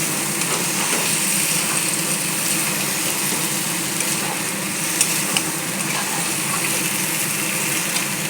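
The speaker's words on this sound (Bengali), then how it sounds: "দিয়ে সামান্য একটু জল দিয়ে আবারও ঢেকে দেব" Mutton curry with yogurt and fried spice mix sizzles steadily in a pan as a little water is added, a continuous close bubbling hiss with faint scraping.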